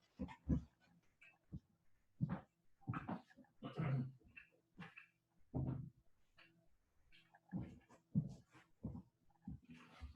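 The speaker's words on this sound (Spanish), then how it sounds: "Esa es mi perra, ¿la escuchan?" A pet pug indoors whines and yips faintly in scattered bursts across several seconds. The sounds are quiet and intermittent, with no clear talking over them.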